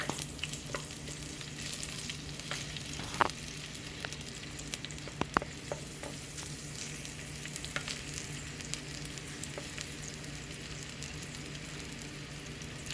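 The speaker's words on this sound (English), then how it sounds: "So I am going to go ahead and first put the onions, and then I am going to let it cook" Chopped onions sizzle in hot oil in a pan with mustard seeds for a Sri Lankan lamb curry, a faint steady frying hiss with scattered small pops and crackles throughout.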